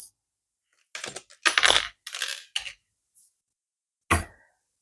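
Small charms drop onto a surface during a tarot-style reading, producing a few separate clinking impacts around one to two seconds in, with a final sharp one near the end, close and otherwise quiet.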